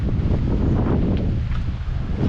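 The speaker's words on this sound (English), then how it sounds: "Pretty windy, so I don't know how the audio is going to sound." Wind buffeting an outdoor microphone on a Zion National Park trail, a continuous loud low rumble with gusty rustle and no voices.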